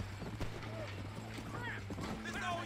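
Horse hooves pound along in Red Dead Redemption, a steady clip-clop at middling distance, mixed with a low engine-like hum and other game sounds.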